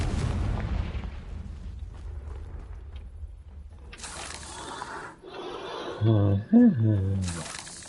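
Confringo fire spell blasts in the Hogwarts Legacy video game, loud booming bursts early on and again near the end, mixed with game effects while someone speaks over the later part.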